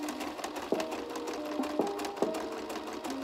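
A sewing machine stitches pieces of fabric for high-waisted shorts, a fast mechanical whir broken by short stops and clicks as it starts and pauses, close and alone.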